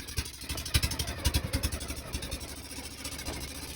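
A boat engine chugs steadily with a rhythmic, putting idle and some clatter near Patungan Beach, fairly quiet and continuous throughout.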